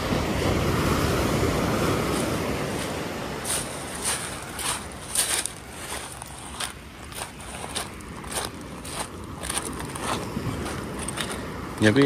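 Surf rolls and washes in steadily at Pasir Ganting, a coral-stone beach in Pesisir Selatan, Indonesia, with a broad rushing roar, some wind noise and scattered sharp clicks.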